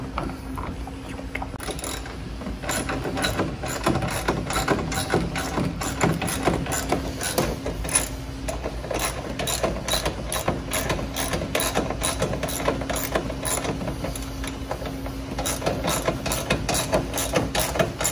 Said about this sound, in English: Go ahead and put this bolt in.